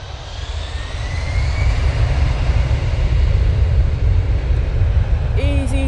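easyJet airliner taking off at Manchester Airport, a loud, steady engine roar with a low rumble that builds and holds throughout, heard from nearby outdoors.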